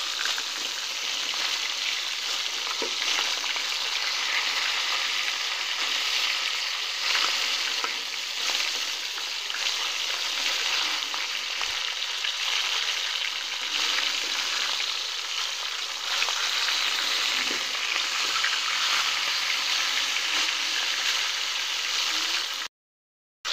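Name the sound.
rohu fish frying in a pan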